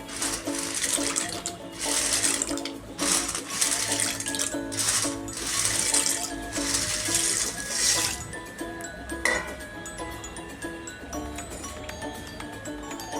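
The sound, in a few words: pasta dropped into warm water for cooking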